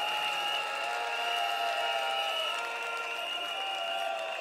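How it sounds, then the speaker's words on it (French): Applause from the audience at an evening tribute event in honour of Ahmed Bakayoko, a steady wash of clapping mixed with crowd noise and faint music, sustained and fairly even throughout. "Je vous demande de faire un bras d'applaudissement pour le vieux père Ahmed Bakayoko."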